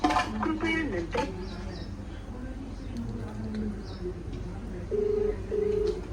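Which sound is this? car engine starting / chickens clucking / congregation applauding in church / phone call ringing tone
phone call ringing tone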